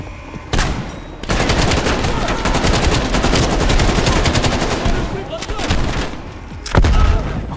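Rapid automatic gunfire rattles loudly and continuously in Call of Duty: Black Ops Cold War, with a brief pause near the start and a heavier burst near the end.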